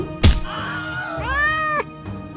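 A cat gives a single drawn-out meow with a rising then falling pitch, fairly close, just after a dull thump, with no talking over it.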